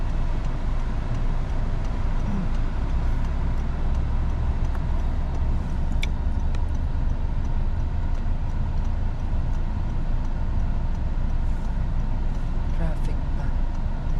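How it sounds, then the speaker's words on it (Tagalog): Steady road traffic with cars passing, a constant dense rumble and hiss that never lets up, with faint voices now and then beneath it. "Traffic pa."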